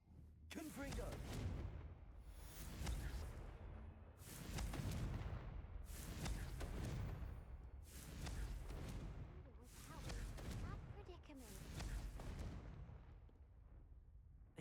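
Confringo explosion spells cast in the Hogwarts Legacy video game, a run of heavy booming blasts about every two seconds that roll on in a steady barrage, with talk faintly beneath.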